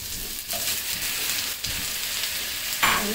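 Thin tomato slices sizzle and spit in a hot pan while cooking dhaba-style chicken, a continuous loud frying hiss with brief stirring bumps.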